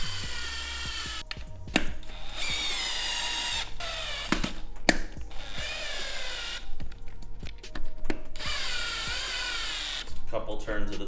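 A power drill runs in repeated bursts, a couple of turns at a time, tightening wheel bolts while mounting a KMC XD229 Machete beadlock wheel with a BFGoodrich KM2 37-inch tire on a Jeep. It whirs loud and close, with someone talking between bursts.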